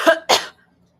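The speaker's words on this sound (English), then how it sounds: "you just have to excuse the constant coughing" Two quick, close coughs in a row from a woman in a quiet room, harsh and throaty like clearing her throat, then silence.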